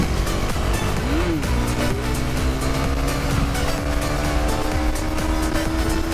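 Husqvarna Svartpilen 401 single-cylinder motorcycle engine runs loud and close, holding a steady throbbing drone with a brief rev partway through, its pitch slowly climbing.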